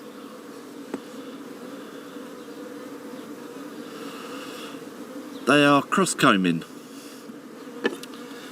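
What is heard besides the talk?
honeybees buzzing during top bar hive inspection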